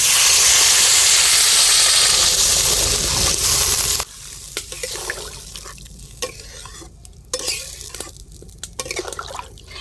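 Rohu fish curry broth is poured into a hot pan of sautéed winter cauliflower and new potatoes. A loud, steady sizzling hiss lasts about four seconds, then settles into quieter bubbling with small crackles.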